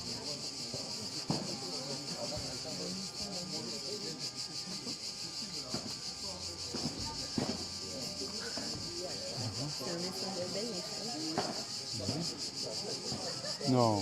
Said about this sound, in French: C'est une alarme. Oui, bien sûr. Une alarme.